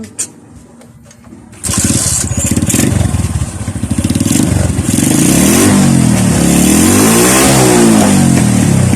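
A Suzuki Smash 115 motorcycle with a fault that makes the engine die when the throttle is twisted. After a quiet start it fires up and then revs loudly and close by, the engine note rising and falling in repeated sweeps.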